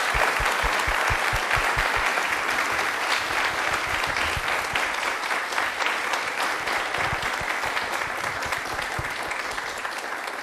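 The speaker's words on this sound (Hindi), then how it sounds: "एक बार जोरदार तालियों से उनका स्वागत करता हूं" A studio audience at a televised yoga special gives a loud, sustained round of applause to welcome a guest, with thick continuous clapping and a few rhythmic hand-claps standing out early on.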